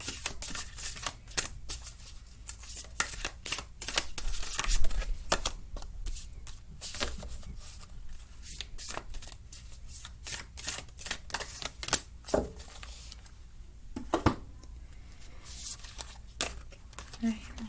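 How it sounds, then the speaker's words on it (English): Cards being shuffled and split between piles in a tarot-style reading, rapid riffling and slapping bursts with clicks and taps, close and crisp, repeating throughout with a voice speaking between shuffles. "I do shuffle these and split them 3 times in between each pile"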